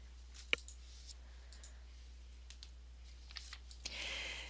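Soft, scattered mouse clicks at a computer, a few sharp isolated taps spread over a quiet background with a faint low hum.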